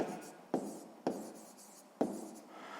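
A math answer is written down by hand in a sixth-grade geometry exercise, with a pen scratching across paper in several short strokes, each starting with a sharp tap, close and fairly quiet.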